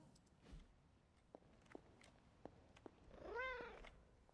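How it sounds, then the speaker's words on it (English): A cat in a Marvel's Midnight Suns game gives one short, faint rising meow near the end, after a few soft ticks and thumps over a quiet background. "Is that a cat?"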